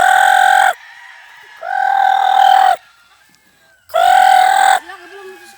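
Roosters crow loudly and close by on a farm, three long calls with quiet gaps between them, and fainter chicken clucks in the background.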